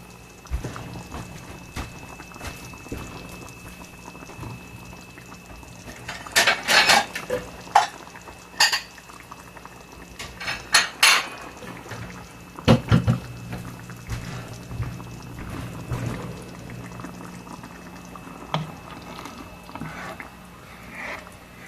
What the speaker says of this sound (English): I'm going to pour a little bit in a bowl so we can just give it a taste test